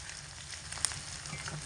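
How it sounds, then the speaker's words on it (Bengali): Garlic fries in a pan for a chital fish stem chorchori, giving a soft, steady sizzle close by with one small pop partway through. "রসুনটা খুব সুন্দর ভাজা ভাজা হয়"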